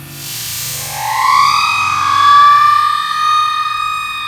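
A stretched, slowed-down stun gun zap: a warbling, distorted electric buzz that rises and wavers in pitch for several seconds, loud and alone.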